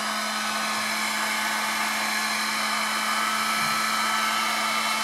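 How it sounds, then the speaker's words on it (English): A heat gun blows steadily on a pan during restoration of a 1955 Pacemaker model 5155 'Petite', a constant, even whooshing hum with a fixed tonal whine, close and unbroken throughout. "So heat gun, and we're just going to gently heat"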